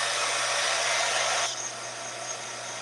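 A hair dryer blows steadily up close, drying a card during a craft project, its broadband whoosh stepping down to a softer, lower setting partway through.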